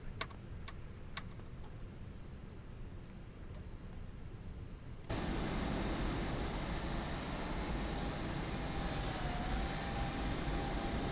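An inbound airliner's engines in Microsoft Flight Simulator 2024, heard at London Gatwick, start as a quiet low rumble with faint ticks and then jump abruptly into a steady, louder broadband roar that holds to the end.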